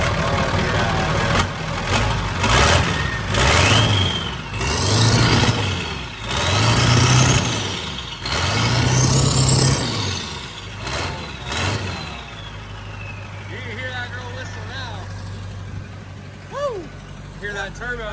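A racing school bus engine with a custom exhaust and turbo revs repeatedly, throaty rises and falls with a whistling turbo spool on each blip, then settles into a loud rumbling idle as people talk nearby.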